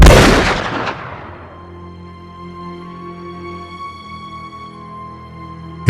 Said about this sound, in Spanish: Los asesinos tiran varios tiros